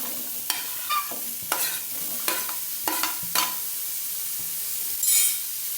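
Onion frying in a pan for a nawabi paneer gravy, a soft continuous sizzle broken by several sharp stirring scrapes of a spoon, close and alone, with a brief hiss near the end.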